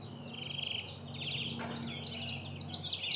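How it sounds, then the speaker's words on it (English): Several birds sing and chirp continuously in the distance outdoors in nature, trilling phrases overlapping against a low steady background hum. "Listen to the birds."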